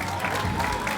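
A crowd at a chamber of commerce awards reception applauds a Lifetime Achievement Award recipient, a dense wash of clapping with a murmur of voices, brief and fairly loud.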